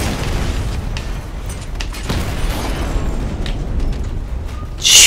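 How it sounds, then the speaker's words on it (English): Tanks blowing up in the Batman Arkham Knight video game: a dense, rumbling wash of booming explosions and debris runs throughout, with one sharp, loud burst at the very end. "blowing up tanks"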